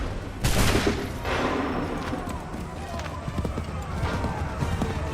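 A musket volley in Assassin's Creed 3 erupts as one sharp, loud crash of many shots together. Rumbling, scattered reports and battle noise follow, with voices heard over the din.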